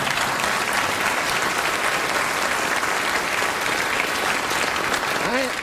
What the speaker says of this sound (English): that's your first round of applause for anything political